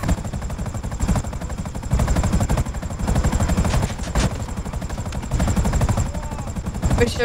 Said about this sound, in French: Oh putain, oh putain, l'hélico, il va pas durer longtemps